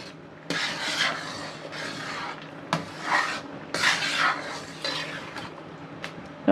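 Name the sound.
stirring moong dal halwa in a pan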